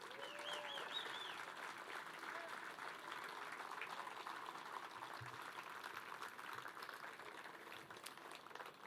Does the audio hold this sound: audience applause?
yes